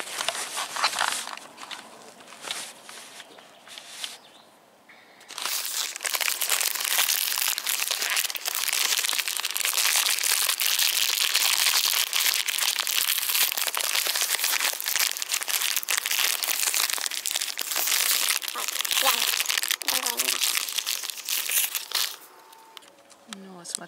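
A plastic wrapper on a Chelny Kholod Mix plombir ice cream, watermelon-melon flavour, is torn open close up, with loud, continuous crinkling and crackling that lasts about sixteen seconds after a quieter start with some talking.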